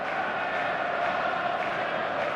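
Stadium crowd at a match in the eFootball video game, a dense steady roar of cheering and chanting that carries on without a break.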